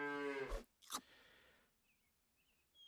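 A single cow moo from the Super Auto Pets video game, a short, clear bellow at the start, then a brief thump and quiet chirpy game sounds.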